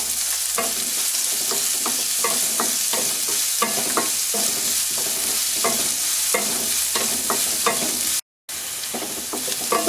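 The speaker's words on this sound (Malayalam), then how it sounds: "ഈ ഉള്ളി അങ്ങ് ഇട്ട് കൊടുക്കുക. ഒന്ന് സോട്ടേ ചെയ്യുക." Sliced onions sauté in a pan for Koorka thoran, a continuous close sizzle punctuated by regular stirring scrapes, briefly cutting out once, with no talking.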